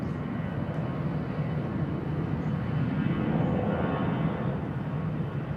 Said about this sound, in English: Here we go, Myanmar Airways International. Another nice catch. Airbus A380 off to Mandalay.